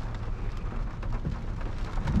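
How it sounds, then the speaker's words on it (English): Heavy rain pours steadily in a dense, continuous hiss with a low rumble underneath, loud and close, with no voices. "it is raining like crazy"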